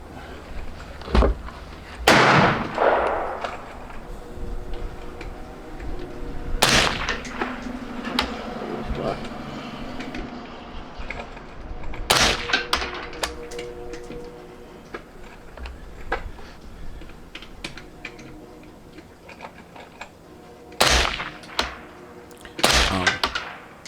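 Suppressed rifle shots from a DDC Enticer S suppressor firing 5.56 and .22 at a range, heard as several sharp, fairly quiet cracks spaced irregularly, some in quick pairs, with a low background and faint talk in between.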